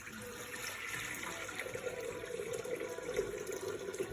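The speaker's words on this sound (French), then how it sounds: "je vais venir mettre 1 litre d'eau dans mon Thermomix" A steady stream of water, one litre, is poured into a Thermomix bowl, giving a continuous, fairly quiet splashing rush that rises slightly as the bowl fills.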